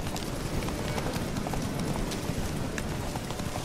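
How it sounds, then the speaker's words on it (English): Horse hooves galloping in The Witcher 3 video game, a steady fast clip-clop drumming loudly and continuously over dense rushing game noise with no pauses. "Yeah, horse racing."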